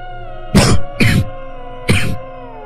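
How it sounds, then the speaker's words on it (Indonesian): Three sharp coughs from a woman, two in quick succession and then one more after a short pause, close and fairly loud against a quiet steady hum. "Hanya suara batuk yang terdengar dari mulut Mama."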